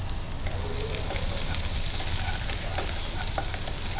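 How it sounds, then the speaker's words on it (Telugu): Chopped onions and chillies fry in a pan with a steady, loud sizzle and crackle, stirred now and then, for a Telugu sesame-paste chicken dish; no voices. "కొద్దిగా ఆనియన్స్ చిన్న చిన్న పీసెస్గా కట్ చేసుకొని పెట్టుకున్న ఆనియన్స్ అన్ని ఫ్రై చేసుకున్నాం"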